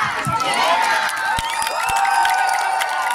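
A crowd of children and adults at a children's festival in Liptovský Mikuláš cheers and claps after a countdown, a steady, loud wash of shouts and scattered applause close by.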